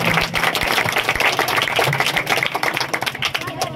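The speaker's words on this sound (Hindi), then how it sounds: "सबसे पहले तो मैं चाहता हूं कि मैडम जी के लिए बहुत ज्यादा जोरदार तालियां होनी चाहिए" A crowd at a ward election campaign event claps loudly for a candidate, with dense, steady applause that continues throughout.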